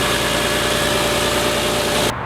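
Audi A3 3.2 V6 Quattro engine idling, a steady, smooth low hum with even mechanical pulsing, close and constant before cutting off abruptly near the end.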